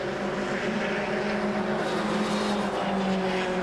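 Formula Renault 2000 cc single-seater race cars run on a circuit in 1998, a loud, sustained engine drone at high revs with no break and no commentary over it.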